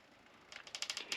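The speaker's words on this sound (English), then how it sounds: "It's sending it to the printer right now." A VLOXO cordless thermal portable printer printing, giving a quiet run of rapid crackly mechanical clicks that starts softly and grows into a regular burst of ticks, close by with no talk.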